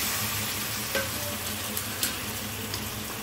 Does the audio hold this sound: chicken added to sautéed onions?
yes